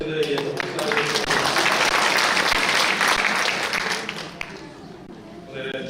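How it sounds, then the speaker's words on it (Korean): A church congregation applauds during an afternoon Sunday worship service, a loud, dense burst of clapping that swells then fades after about four seconds, with voices audible around it. "다시 한번 우리 마르다마 여신들에 위해서 박수하겠습니다"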